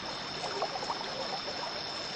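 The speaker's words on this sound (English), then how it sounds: "The rushing water took the boat into the middle of the river." Continuous rushing water with a broad, hissing wash and faint bubbling, steady and close throughout this short stretch.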